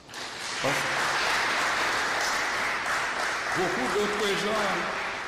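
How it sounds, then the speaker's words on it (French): An assembly audience claps steadily at an evening gathering, a broad crowd applause that runs the whole length while a voice speaks over it in the latter half. "Vous ne l'applaudissez pas?"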